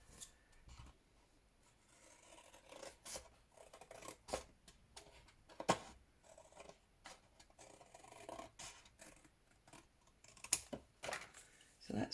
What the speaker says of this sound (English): Now I am actually going to cut this piece off